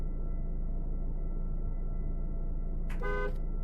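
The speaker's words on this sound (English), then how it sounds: "Not sure that honking is going to keep those guys interested." A car horn gives a single short honk in Cataclysm: Dark Days Ahead, sounding near the end over a constant low engine rumble.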